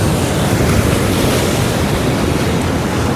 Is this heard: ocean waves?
yes